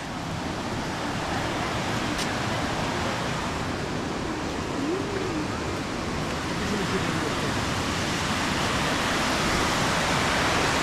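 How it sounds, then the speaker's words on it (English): Water overflowing a dam at a glacier site in Austria makes a continuous heavy roar, steady and loud throughout, with a brief faint voice partway in. "This whole place is a water dam and it's overflowing down there"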